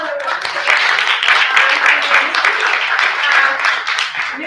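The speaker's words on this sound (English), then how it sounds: "I'd like to hear a round of applause for Miss Knoll" Sustained applause from an audience at a faculty senate meeting, a steady dense wash of clapping lasting several seconds without a break, with a few voices faintly mixed in.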